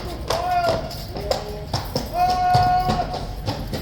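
Hooves of Horse Guards horses clip-clopping on pavement during a ceremonial parade in London, steady rhythmic clops at moderate distance mixed with crowd noise and a sustained brass note, with people talking nearby.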